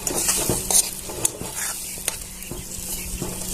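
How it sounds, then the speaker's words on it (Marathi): Pak modak being stirred in thickened sugar syrup in a pan with the gas off, giving a soft steady sizzle punctuated by clear utensil scrapes and taps against the pan, close and with no voices. "गॅस बंद करून आता हे हलवत राहायचं आहे जरा वेळ"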